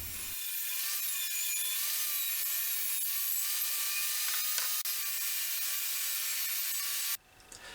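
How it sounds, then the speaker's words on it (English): A table saw rips through thick 50mm plywood in one long continuous cut, a loud steady high-pitched whine with a grinding edge that holds for about seven seconds, then stops abruptly as the blade leaves the board. "I moved over to the table saw to cut everything down to the correct size"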